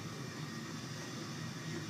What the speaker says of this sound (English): Stop hitting me, damn airplane.